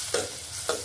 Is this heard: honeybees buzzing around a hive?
no